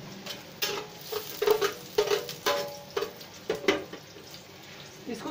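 Onion and garlic frying in hot oil for a tadka for Lahori chana daal, with soft sizzling broken by repeated stirring scrapes and clatters close by in a home kitchen.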